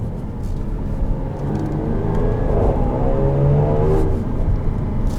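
A 2021 Jaguar F-Type R-Dynamic drives with its exhaust valves closed, giving a muted engine drone and rising rev whine over steady road rumble from inside the cabin.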